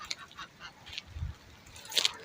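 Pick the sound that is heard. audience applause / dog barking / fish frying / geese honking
geese honking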